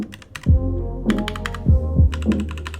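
Keys on a mechanical keyboard clatter in quick bursts of clicky strokes with deeper thocks between them, close and loud with no talking.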